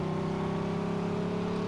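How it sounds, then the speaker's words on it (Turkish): A car engine in the video game Mafia 2 drones at a steady, loud, sustained rumble for a brief moment, with no talk over it. "Uf bu arabanın sesini çok sevdim oğlum."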